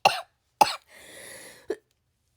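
A woman has a coughing fit: four sharp, close coughs spaced out over a couple of seconds, with a brief wheezing, rasping breath between the second and third.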